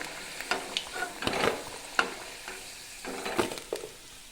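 Potato pieces deep frying in oil until reddish-brown, a close, steady sizzle with repeated scraping and stirring clatters at an uneven rhythm, with no talking.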